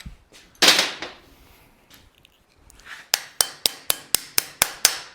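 A hammer taps brake hardware on a 1941 custom Mercury in a shop, a few scattered knocks followed by a steady run of about nine sharp, evenly spaced metallic strikes, close and clear.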